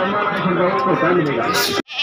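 Goats bleat at a goat market, mixed with dense crowd chatter and someone talking throughout; the calls are hard to separate from the busy background before a brief drop near the end.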